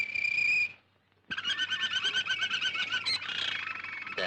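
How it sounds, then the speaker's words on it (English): A pet canary singing indoors in a 1937 film, bright close trills and chirps in two bursts separated by a short silence, the second phrase longer and more continuous. "I want a canary for company."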